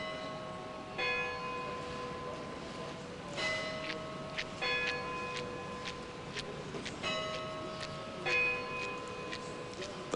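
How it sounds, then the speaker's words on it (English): Church bells peal at Jackson Square in New Orleans, repeated ringing strikes with lingering overtones at an uneven rhythm, heard at moderate distance over soft ambient noise. "The pealing of the bells at Jackson Square."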